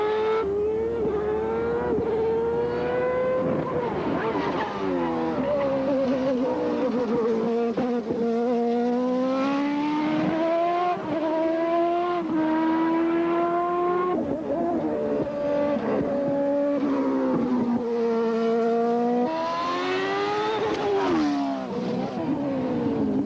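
An IndyCar race car on a testing run, driven with a manual gearbox, gives a loud, continuous engine note that rises and falls through gear changes as it laps, with no talking.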